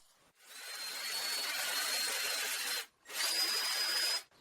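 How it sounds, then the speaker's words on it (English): A power drill with a 2 mm metal bit whines loudly while boring pin holes into wood for a barrel bottom, running for a few seconds, briefly stopping, then drilling again. "I carefully drill holes for the guide pins"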